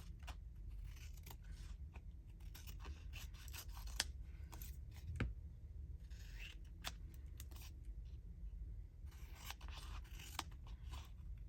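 Scissors snip through a paper tag for a handmade Christmas journal bag, a quiet string of short cutting clicks and rasps with faint rubbing of paper between them, close up and without talk.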